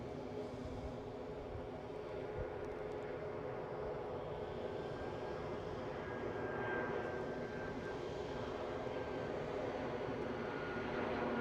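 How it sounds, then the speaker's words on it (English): An Austrian-registered EasyJet Airbus A319 arriving from Amsterdam passes over Newbridge near Edinburgh airport, its engines a steady, loud, continuous roar that swells slightly toward the end. "So just crossing Newbridge now is an EasyJet A319 from Amsterdam, an Austrian registered one for a change of pace."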